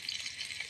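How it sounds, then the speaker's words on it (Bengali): Chopped onion and chili frying in half a cup of hot oil make a soft, continuous hiss and sizzle, fairly close, lasting under a second. "গাইস, আমার পেঁয়াজটা ভাজা হয়ে আসছে"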